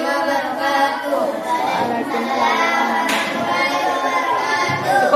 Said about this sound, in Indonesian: Tepuk tangan untuk kelompok hijau.